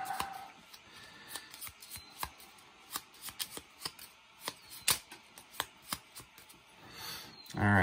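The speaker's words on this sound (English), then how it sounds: "Let's give these a quick shuffle." Cards for the board game Descent: Journeys in the Dark, second edition, being shuffled up close, with a series of crisp riffling snaps and soft slaps in an uneven rhythm.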